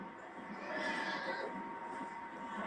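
Horses neighing in the video game Red Dead Redemption 2: a drawn-out whinny over a steady, quiet outdoor wash, fairly faint and distant.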